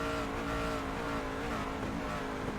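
A race truck engine in iRacing's winter truck series at Homestead sputters as it runs out of fuel. The drone is continuous, loud and uneven, with wavering tones and no voices.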